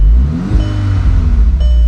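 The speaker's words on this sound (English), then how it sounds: "But I'm gonna give it a couple of revs." A wrecked 2012 Volkswagen Golf R engine revs up hard and loud, its low growl rising and falling in pitch over a steady idle, close by with no talking.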